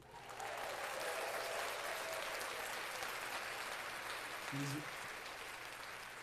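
Steady clapping fills the room for several seconds at an even, moderately loud level, with faint voices and a low hum beneath it.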